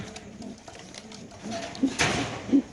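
A racer pigeon gives two short, low coos near the close over quiet background rustling, with a brief scrape just before the second call.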